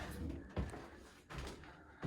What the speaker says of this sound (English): You have to go through a lot of doors.